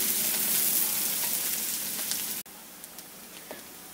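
Chopped onion frying in oil in a pan for a Bengali pumpkin fritter curry, a steady dense sizzle that drops abruptly partway through and continues more quietly, with faint crackles and no talking.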